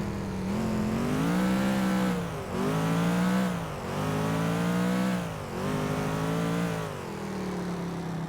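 A car accelerating in GTA 4, its engine revving loud and close through several rising gear pulls, each climbing in pitch before dropping at the shift.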